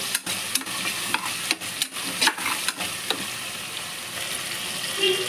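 Carrot and radish sauté in a pan for sambar rice, giving a steady close frying hiss broken by several sharp utensil scrapes and clacks from stirring.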